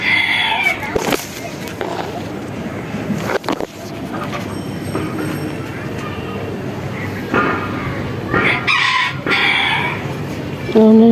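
Chickens kept on a rooftop fruit garden: a few brief crowing calls rise at intervals over a rumbling background, with voices present.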